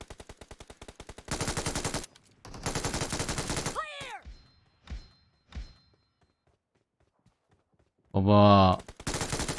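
Rapid bursts of gunfire from a weapon in PUBG, a Vikendi map match, fired in dense automatic strings with short pauses, loud and close, with a brief spoken word and game announcer noise between volleys.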